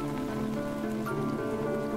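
Steady rain falls in an outdoor Tamil comedy film scene, a continuous even patter heard with soft background music throughout.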